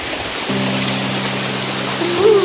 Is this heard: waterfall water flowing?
yes